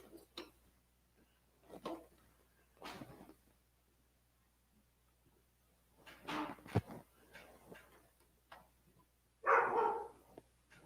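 Dogs bark off and on in short, scattered bursts, mostly faint and somewhat distant, with one louder burst near the end, in a quiet indoor workspace where an American flag rod wrap is being made.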